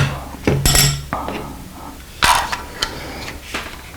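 Metallic clicks and sharp clinks as the latches are released and a Midwest Industries USAF GAU5A takedown survival pistol is pulled apart. Close, scattered handling noises with a couple of brighter rattling hits and no talk.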